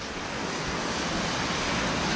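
Ocean waves wash steadily onto a beach as the tide comes in on a coastal walk, a continuous broad roar of surf with wind noise on the microphone and no talking.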